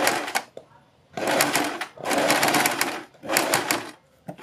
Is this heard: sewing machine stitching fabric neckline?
yes